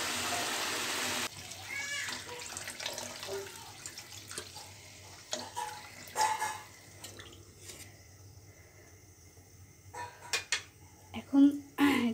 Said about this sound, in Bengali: এখন আমি ঝোলের জল দিয়ে দিব